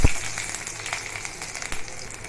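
Onions frying in a pan of hot oil during home morning cooking, a steady broadband sizzle with a sharp burst at the start as they hit the oil, then softer crackles throughout with no talking.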